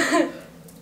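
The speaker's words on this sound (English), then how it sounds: "Because I was clearing my throat" One short, close throat clearing, a rough raspy burst that fades within a second.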